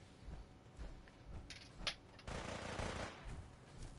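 Gunfire from a super mutant's weapon in a Fallout video game, a few sharp cracks and a longer rattling burst amid mechanical clanks, fairly faint and without talk.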